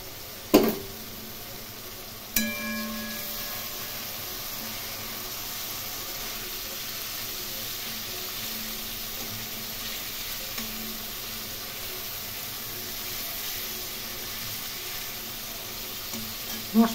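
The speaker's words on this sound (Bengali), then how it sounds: "মশলা কষানো হয়ে গেছে" Tomato, chilli paste and cumin masala for a hilsa fish curry sautés in a pan with a soft, even sizzle, marked by a few sharp utensil knocks near the start and end.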